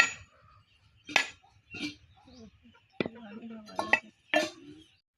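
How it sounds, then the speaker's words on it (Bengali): A husked coconut being cracked open, several sharp hard knocks at uneven intervals, close by, with a voice talking between the strikes. "আমাদের নারকেলের খোসা ছড়ানো হয়ে গেছে এবার আমরা ভেঙে নিব"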